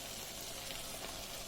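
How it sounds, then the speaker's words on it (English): Vegetables and leftover rice sizzle in a pan during vegan stir frying, a steady close crackle and hiss with no talk. "Nice sizzle."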